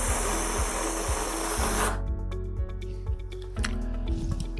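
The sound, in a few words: letting air out of a balloon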